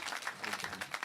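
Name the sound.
applause for the senator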